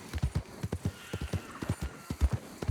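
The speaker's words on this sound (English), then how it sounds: "I love this horse." Horse hooves clip-clop steadily on hard ground in the video game Red Dead Redemption 2, a close, crisp rhythmic trot of repeated paired hoofbeats with no talking over it.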